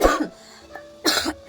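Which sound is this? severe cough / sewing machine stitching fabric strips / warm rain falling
severe cough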